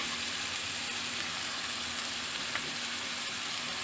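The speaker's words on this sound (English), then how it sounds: "Keep on stirring." Spices such as turmeric, chili and paprika powder fry with grated garlic in a pan while being stirred, giving a soft continuous sizzle with faint scraping, steady and fairly quiet, with no voices.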